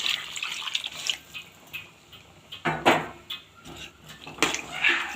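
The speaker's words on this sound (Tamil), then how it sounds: "தேவையான அளவு தண்ணி சேர்த்துக்கலாம்." Water splashes and pours in uneven bursts into a vessel, with a few clatters of a pot, no talking.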